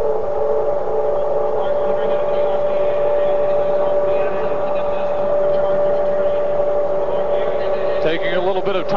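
A modified pulling tractor at a 1986 indoor super pull idles loudly and steadily before hooking to the sled, its engine droning constantly with a rising burst near the end amid crowd and arena noise.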